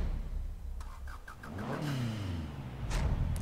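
A car engine in Forza Horizon 3 revs up and down, moderately loud, with a rising whine and a few sharp bursts, no talk over it.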